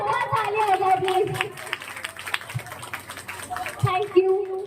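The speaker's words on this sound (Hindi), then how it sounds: "तो इनके लिए भी एक बार जोरदार तालियां हो जाए प्लीज" Applause from a seated audience at a gathering, scattered clapping that rises and thins unevenly beneath people chattering and talking, moderately close.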